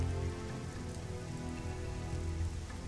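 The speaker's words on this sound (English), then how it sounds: "It just started raining and storming." Steady, heavy rain and storm in the game Bot Bash, pouring down in a continuous dense patter and hiss, close by, with no pauses.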